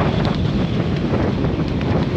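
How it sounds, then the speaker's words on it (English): Strong wind of about 22 miles per hour buffets the microphone on an open hill edge with a loud, steady rumbling roar and gusty fluctuations, no voices heard. "22 miles an hour wind, so I don't know if you can hear me"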